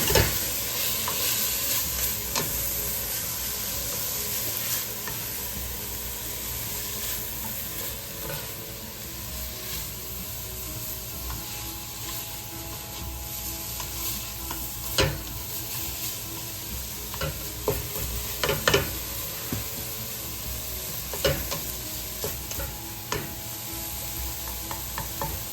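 Garlic sizzles steadily in a pan over medium heat for a couscous paella soup, with a constant frying hiss and intermittent scraping stirs and clinks from the spoon throughout, close and unaccompanied by speech.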